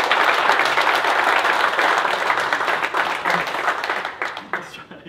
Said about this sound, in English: everyone give Chuck another round of applause